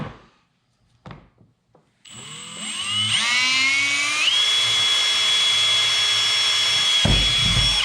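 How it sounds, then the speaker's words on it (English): A few soft knocks, then a power drill spins up with a rising whine and grinds steadily into a kayak hull for several seconds before stopping abruptly. "So we'll just take our drill bit."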